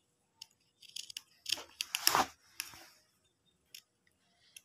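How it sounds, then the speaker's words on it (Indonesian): Scissors snipping school uniform fabric around the armhole, a quiet series of close, crisp cuts clustered in the middle with a few isolated snips before and after, no talking. "Digunting kerung lengannya, jangan lupa tambahkan kampuh."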